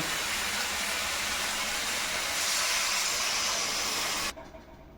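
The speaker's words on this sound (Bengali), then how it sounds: "আমার মশলা কষা হয়ে গেছে। এবার জল ঢেলে দেব।" Water is poured into a hot pan of frying spices with drumsticks and potato for a thin rohu fish curry, giving a loud, steady sizzling hiss that cuts off abruptly near the end.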